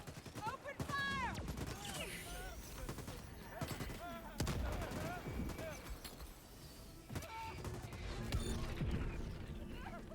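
Gunfire in the video game Helldivers 2 during an invasion of Super Earth: repeated rapid bursts and single shots crack out close and loud, mixed with shouted voices and combat chatter.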